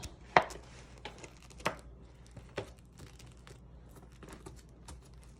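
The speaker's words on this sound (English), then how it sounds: "And then this just Velcros back up." Several sharp ripping and crackling bursts of a hook-and-loop strap on a Donald Duck animatronic's costume being pressed and pulled, close by, with quieter rustling in between.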